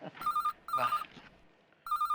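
A telephone rings in three short trilling bursts, the last after a longer pause, with faint background noise between rings.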